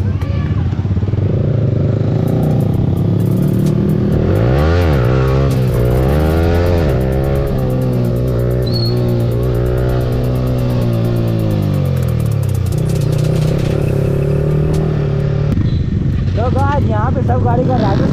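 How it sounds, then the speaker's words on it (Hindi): Superbikes such as a Kawasaki Z900 and ZX-10R riding past on a Sunday ride through Patratu valley, loud engines revving and rising in pitch as they pass close by, with people talking over the noise. "सुपर बाइक तो यहाँ पे बहुत सारा आ रहा है"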